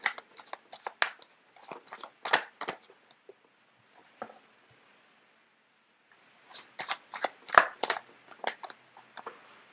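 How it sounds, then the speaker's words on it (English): Tarot cards are handled and shuffled close up, giving bursts of quick papery riffles and taps, a pause of near silence, then another cluster of crisp shuffling clicks. "So let me just get the cards out first of all."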